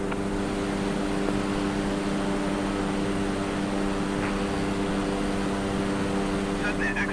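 A Cessna Caravan turboprop engine in Microsoft Flight Simulator 2020, flying near Zurich, drones steadily and evenly at constant loudness throughout, with no changes in pitch or power.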